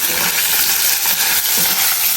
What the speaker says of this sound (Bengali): তো এদিকে হচ্ছে পুটি মাছ ভাজা হচ্ছে